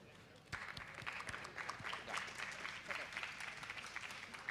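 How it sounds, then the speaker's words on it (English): Modest applause from a small audience at a tech camp event, scattered sharp claps starting after a short pause and continuing at a fairly low, uneven level with possible voices mixed in. "A big applause for Dwin."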